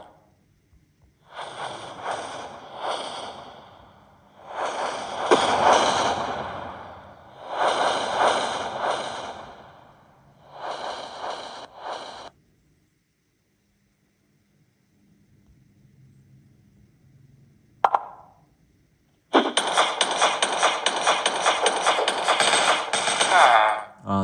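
Rapid bursts of video-game gunfire during a boss fight in a toilet-monster survival battle game: several loud, dense rattling volleys, a pause, then a sustained burst of shooting.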